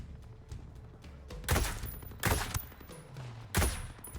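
Rifle shots in the video game Ghost Recon: Breakpoint, three sharp loud cracks spaced about a second apart with lighter ambient noise between them.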